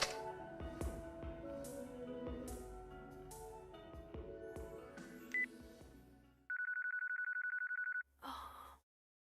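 A telephone rings in the Yakuza 4 video game, a steady electronic ring tone sounding alone for about a second and a half after a stretch of background music and sound effects.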